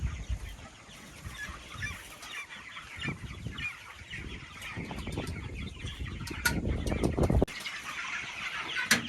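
Cornish Cross meat chickens clucking and fluttering as they are unloaded from a brooder for processing, a busy flock chorus with wing flaps and scuffling that grows louder toward the end.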